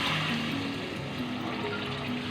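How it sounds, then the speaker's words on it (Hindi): Water pouring into a pot of white chickpea curry, a steady close liquid stream and trickle running continuously with no talk over it. "अब इसमें हम पानी ऐड करेंगे।"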